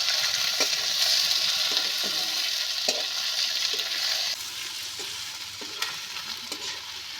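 Tomato and green chilli sizzle and fry in onion-garlic oil for a Bengali koi fish curry, a steady close crackle broken by occasional stirring scrapes, with no voices.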